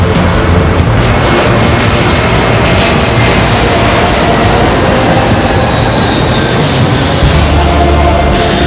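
Passenger airplane engines give a loud, continuous roaring drone that fills the whole stretch at a constant level, with no voices on top.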